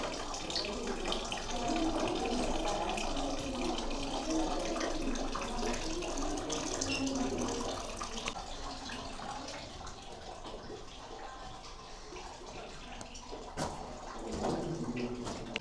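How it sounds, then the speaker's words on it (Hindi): Water runs steadily in a continuous broadband rush, fairly close, easing slightly in level partway through, with no voices over it. "तो यहाँ पानी आ रहा है।"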